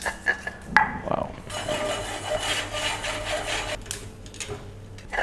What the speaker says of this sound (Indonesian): Kita akan ulek ya, kita akan haluskan bumbu-bumbu yang bagiannya masih besar ya